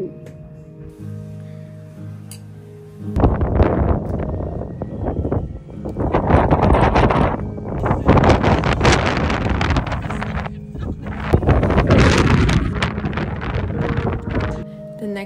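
Strong wind gusting at Brighton beach on a sunny morning, loud roaring bursts buffeting the microphone in several waves after a quiet start.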